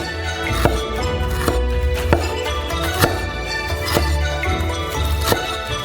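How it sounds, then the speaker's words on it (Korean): A knife slices peeled fresh ginger into thin pieces on a cutting board, giving a steady rhythm of sharp, close chops roughly every second over a constant background hum. "얇은 조각으로 자른 다음"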